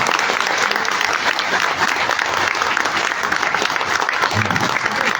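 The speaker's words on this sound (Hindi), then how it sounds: "अब लगा है मुझे कि हरियाणवी स्टाइल में तालियां बज रही हैं।" A large crowd at a political party event in Haryana claps vigorously and continuously in a dense, loud, sustained burst of applause with no pauses.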